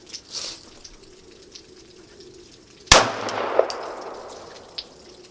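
A single sharp, loud gunshot cracks at an indoor-sounding shooting range, followed by a ringing metallic tail and a smaller clink, with quiet room noise before and after.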